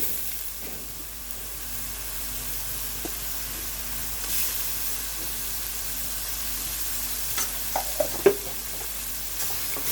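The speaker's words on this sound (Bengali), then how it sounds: "ভালো করে নাড়াচাড়া করে আবার একটু মিশিয়ে নিচ্ছি চারটা পাশ যাতে পুড়ে না যায়" Rohu fish pieces fry in a spiced paste with bay leaves while being stirred, giving a steady low sizzle throughout, with a few scraping clicks of the spoon near the end.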